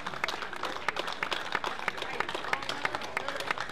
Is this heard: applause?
yes